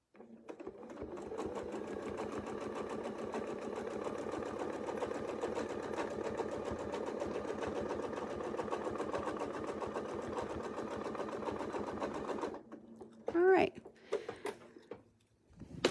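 A sewing machine stitches steadily along an existing stitch line on a quilt, a fast, even mechanical whir that runs for about twelve seconds, then stops, followed by a few brief clicks and handling noises.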